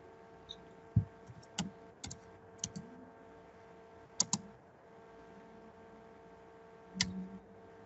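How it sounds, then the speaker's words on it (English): Scattered keystrokes on a computer keyboard during an online English lesson for young children, a few sharp clicks spread out with pauses and a low hum beneath, fairly quiet and close. "You're still typing."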